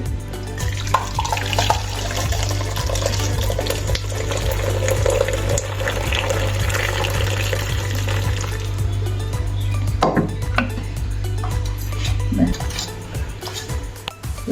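Water poured and drained out of a pot of cooked Maharashtrian spinach garagata, a continuous splashing flow with a low steady hum underneath and a few knocks of the pot near the end, close up.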